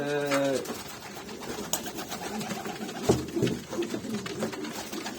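Pigeons coo softly nearby, a few throaty rolling calls with faint rustling and wing noise in between.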